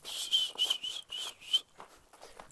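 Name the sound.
person whistling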